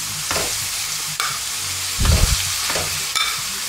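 Veal tendrons frying in a pan, sizzling loudly up close while being stirred, with several scraping stirs and a louder burst of spitting midway.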